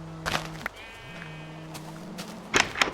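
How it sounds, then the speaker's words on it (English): Sheep bleat in a video game during a shearing quest, with a few short distinct bleats and thumps over a faint continuous game background tone. "let me shear all the sheep over here"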